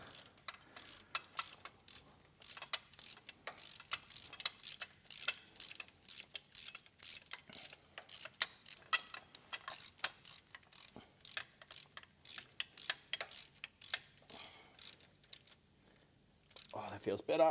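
A wrench works a bolt on the alternator bracket of a 1980 Ford Falcon 351 XD, giving a long run of quiet, evenly spaced ratchet clicks close by, stopping briefly near the end.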